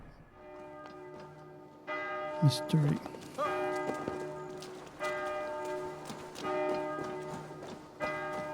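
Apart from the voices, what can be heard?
church bells ringing in video game Assassin's Creed Valhalla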